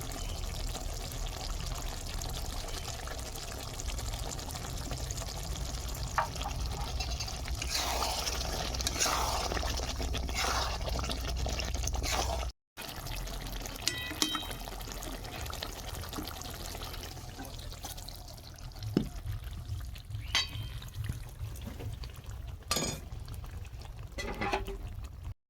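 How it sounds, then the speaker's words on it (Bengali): Restaurant-style chicken curry with gravy is poured out of a pan, a steady wet sloshing pour that runs continuously, briefly cuts out, then resumes with scattered scrapes and drips. "বন্ধুরা দেখুন রেস্টুরেন্টের স্টাইলে চিকেন কারি হয়ে গেছে, ঢেলে নিচ্ছি"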